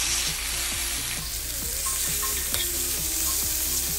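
Salt-marinated galbi grills over medium heat in a preheated, lightly oiled cast iron pan, giving a steady close sizzle and crackle with soft scraping stirs throughout and no talking.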